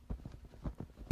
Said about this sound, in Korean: 여러 사람의 발소리가 멀리서 들려왔다.